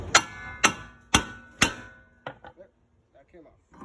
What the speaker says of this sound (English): Get a hammer, sledge, whatever the hell you want.